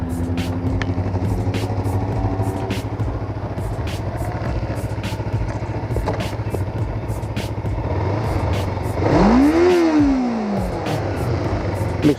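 Kawasaki Ninja 500R motorcycle, a used beginner bike, idling steadily up close, then a sharp rev rises and falls near the end before settling back to idle.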